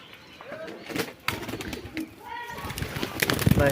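A pigeon, weakened and underweight from a winter cold, coos softly in short bursts while being held in someone's hands at home, with a person talking over it and faint rustling throughout.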